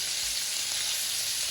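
Food browns in a pan with a steady, close, even sizzle and hiss that holds without a break and with no voices.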